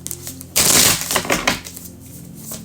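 A deck of tarot cards is shuffled in one sudden, crisp riffling burst, followed by softer, uneven rustling as the cards settle, with no talk.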